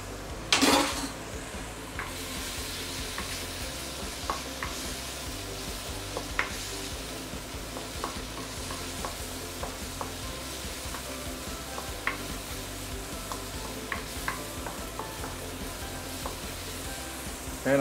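Chili paste with a tablespoon of tamarind paste fries in a pan for sambal petai prawns, a constant close sizzle broken by repeated spatula scrapes and metal clinks against the pan, with a louder bump at the start.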